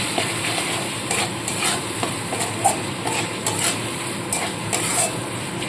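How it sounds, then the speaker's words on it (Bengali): Ground spices cooked down with water and sugar in a pan, for a cauliflower, pea and red lentil khichuri, give a soft continuous sizzle with regular scrapes and clinks of a spoon against the metal pan. "তো মশলাটাকে আগে খুব ভালো মতো করে কষিয়ে নেবো"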